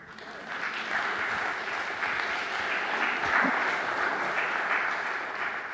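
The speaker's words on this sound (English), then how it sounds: "You can applaud." A conference audience applauds steadily for several seconds, a dense, even patter of many hands clapping.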